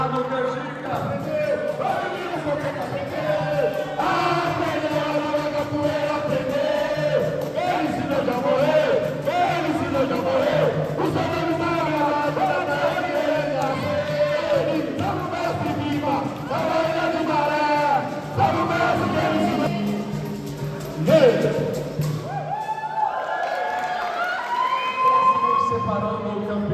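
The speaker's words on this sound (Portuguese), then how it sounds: "Palmas também para Leonardo Canjica!" A crowd cheers and applauds steadily at a Brazilian capoeira championship award ceremony, loud and continuous, with a rhythmic chant and an announcer talking over it.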